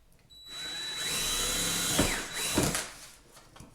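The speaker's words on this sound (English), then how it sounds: "I'll be able to drill through the actual container itself" Power drill boring through a plastic pond skimmer container, whirring steadily for about two seconds with a couple of louder bites as the bit grinds through, then winding down near the end; no talking.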